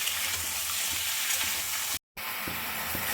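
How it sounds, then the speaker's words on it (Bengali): Pieces of colorful sea crab fry in hot oil, crackling and sizzling loudly and continuously up close, with a short break of silence midway. "এই কাঁকড়াটা আমি তেলের মধ্যে দিয়ে দেবো"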